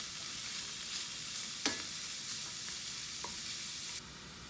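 Vegetarian pad thai ingredients with carrot stir-fried in a pan, a steady broadband sizzle with a few sharp scrape or clink accents from stirring, continuous and close, no talking.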